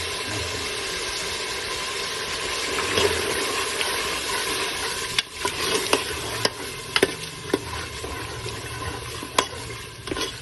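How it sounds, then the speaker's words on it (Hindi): Yogurt is stirred into frying beef and pea keema over a medium flame: a steady close sizzle, with repeated sharp spoon knocks and scrapes against the pot in the second half and no talking. "दही को डालने के बाद इसको अच्छी तरह हिलाते रहना है तो फुटियाँ ना बने।"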